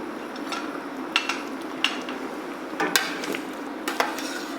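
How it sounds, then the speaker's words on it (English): A spoon scraping and clinking against a pot while chicken mulligatawny soup is stirred, several sharp light taps over a steady low simmering hiss, with no voices. "Give this a stir"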